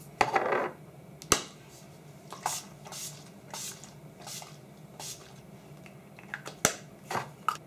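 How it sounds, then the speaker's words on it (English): Several short, crisp sprays of Urban Decay All Nighter makeup setting spray hiss onto a face in quick bursts with pauses between, close and fairly quiet, punctuated by a couple of sharp clicks. "now I'm going to spray my face using the Urban Decay All Nighter Makeup Setting Spray."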